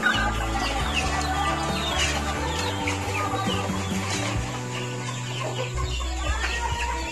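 Several chickens cluck and murmur close by, a busy overlapping chatter of hens with occasional louder calls.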